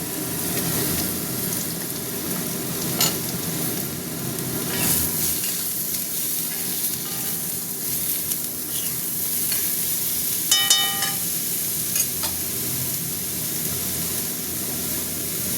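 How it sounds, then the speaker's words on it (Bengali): Small poppy seed lentil dumplings (posto bori) frying in hot oil in a little pan, a continuous close sizzle and bubbling hiss with a few faint clinks of stirring, with no talking. "পোস্তর বড়ি এই যে ভাজছি ছোট্ট এটাতে মধ্যে।"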